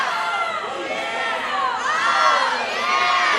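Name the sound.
crowd cheering at boys' swim meet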